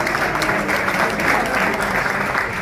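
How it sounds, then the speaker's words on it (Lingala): Evening-event audience in a hall applauds steadily, a dense, even wash of clapping hands with faint crowd murmur underneath, continuous for a couple of seconds. "est-ce que vous pouvez applaudir pour vous-même, s'il vous plaît?"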